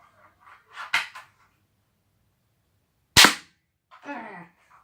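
A gun fires indoors and the round strikes a table, giving a sharp, loud crack. A few smaller clattering knocks come before and after it, and there is no speech.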